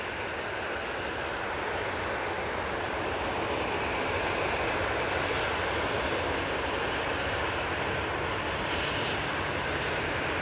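TUI Boeing 737 jet departing Manchester Airport, a sustained broadband engine roar that stays strong and slightly swells toward the middle, continuous and unbroken with no voices.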